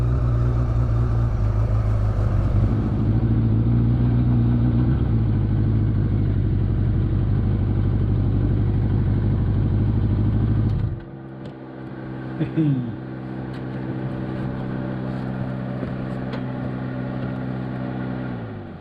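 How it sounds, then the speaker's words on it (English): A 1000cc tuk-tuk engine drones steadily and loudly for about eleven seconds, then cuts out abruptly, leaving a quieter, lower background with a brief rattle. "So Peter's just taken me for a spin in the tuk-tuk"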